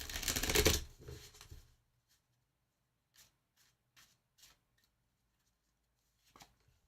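Playing cards shuffled for a card reading, a dense, loud riffling burst at the start that fades within two seconds, followed by a few faint, sparse card taps and slides.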